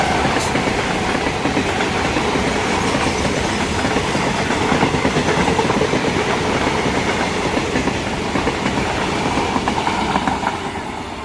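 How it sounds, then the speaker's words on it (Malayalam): Locomotive-hauled Punalur special train 06640 passing at Kaniyapuram: a loud, continuous rumble and clatter of wheels on rails that holds steady for the whole stretch, then eases slightly at the end. "പുനലൂർ സ്പെഷ്യലാണ് ട്രെയിൻ വണ്ടി."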